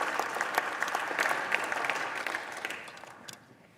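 Sustained applause fills a chamber during an impeachment hearing, a broad crowd clatter that holds steady and then thins out toward the end.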